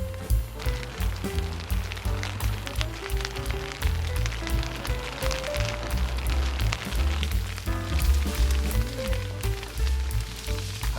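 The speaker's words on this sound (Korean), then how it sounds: "빗소리 들으시나요?" Steady rain patters and hisses continuously, dense and close, with no voices, over low rumbling background noise, at a coastal cliff backpacking campsite on Gaedo island near Yeosu, South Korea.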